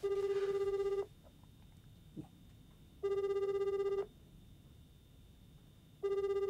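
A phone call rings out in a standard ringtone rather than a messaging-app call tone, three one-second bursts of an electronic ring spaced evenly apart with quiet gaps, faint and alone.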